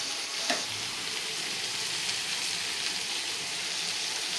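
Okra frying in a pan, a steady continuous sizzle with crackling throughout, close and fairly loud, with one brief louder pop near the start and no voices.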